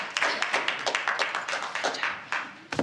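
School board meeting attendees clapping briefly after a vote: a modest room of hands beating in quick, uneven claps, close and distinct, with a final louder clap at the end.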